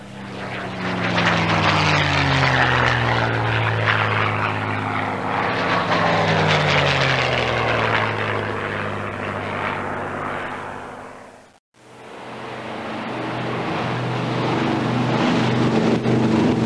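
A large four-engine World War II bomber drones with propeller engines, a loud, sustained throbbing roar with slowly shifting pitch, briefly cutting out near the end before resuming.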